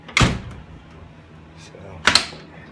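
Two solid car door thumps on an old car, one near the start and another about two seconds later, loud and close, with quiet mechanical noise between.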